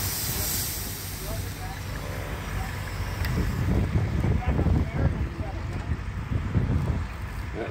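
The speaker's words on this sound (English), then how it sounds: "as the steam engine is pulling the belt away from the threshing machine" A steam traction engine drives a threshing machine by a long flat belt at a field demonstration, giving a steady loud mechanical rumble and hiss with rhythmic chuffing pulses throughout, while people talk nearby under the machinery noise.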